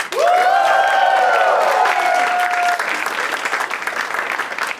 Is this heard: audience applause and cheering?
yes